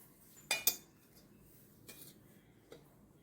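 A knife cuts the flesh of jamun fruit away from the seeds on a plate, giving two close, sharp metallic clinks followed by a few fainter taps in a quiet room.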